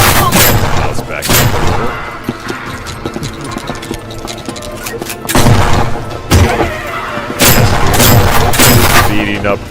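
Shotgun blasts in a horror game against ghosts boom repeatedly in loud, irregular bursts over a busy soundtrack, with heavy clusters near the middle and toward the end.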